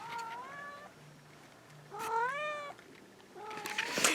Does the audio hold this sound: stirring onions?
no